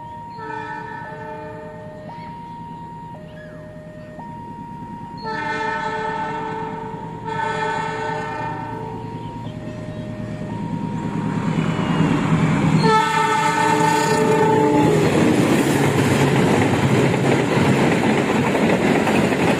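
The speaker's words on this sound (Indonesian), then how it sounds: "persiapan kereta api Jakarta yang akan menyilang kereta api Pasundan di stasiun Tarik" Jakarta passenger train from Pasar Senen to Surabaya Kupang passing through Tarik station, sounding its horn in several long sustained blasts amid rising rumble of wheels on rails, growing louder as it nears.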